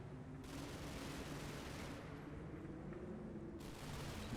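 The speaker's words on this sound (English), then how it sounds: "somebody's shooting at that infantry little blue marker down there" Distant gunfire aimed at infantry in the war game Combat Mission: a continuous muffled crackle of shots rolls on at low level throughout, with no voices.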